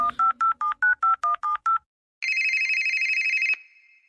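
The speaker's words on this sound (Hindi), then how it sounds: "रोहित को फोन करती हूँ।" A quick run of eight touch-tone dial beeps, then a single long steady phone tone, clear and close with no talking.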